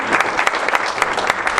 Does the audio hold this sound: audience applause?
yes